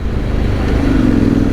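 A custom Honda X-ADV 750 motorcycle being ridden gives a close, loud engine drone that rises slightly in pitch as it accelerates, mixed with wind rush and no speech.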